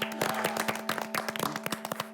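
A studio audience on a Korean talk show claps to welcome Im Hyun-sik, a short burst of scattered, close hand claps under a faint steady musical tone.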